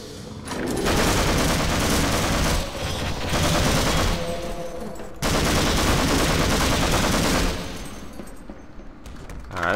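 An SMG fires in the video game Half-Life in loud, sustained rapid bursts, with a short break in the middle and a trailing tail at the end.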